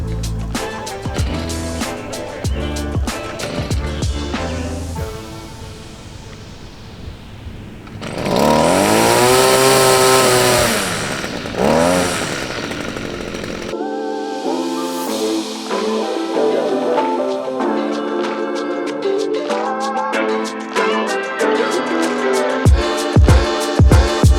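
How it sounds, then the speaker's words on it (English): A new gas-powered weed whacker revs loudly at close range for several seconds amid other outdoor work noises and clattering, then drops back as activity continues. "just trying out our new weed whacker"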